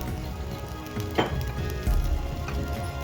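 Masala dosa sizzling and frying in oil on a pan, a steady close crackle throughout with a brief brighter hiss partway through.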